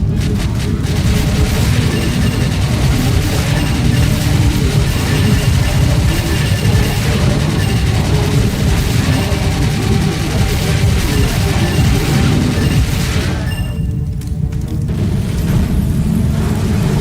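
Grenade-launcher explosions in a video game form a heavy, sustained rumble of booms that stays loud throughout and briefly thins near the end.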